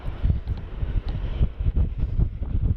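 Gusty wind at Sydney Airport buffets the microphone with a steady low rumble and muffled thumps, with no voices present.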